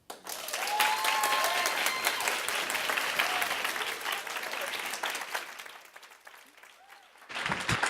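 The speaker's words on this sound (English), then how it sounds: "Keep clapping for Colleen." Sustained audience applause for speaker Colleen at an education talk event, full and even for about six seconds, thinning out and then swelling again near the end, with faint voices and whoops mixed in.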